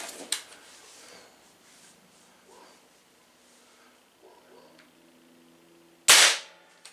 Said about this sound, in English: I'm gonna shoot it without a pellet in there, and you judge how loud it is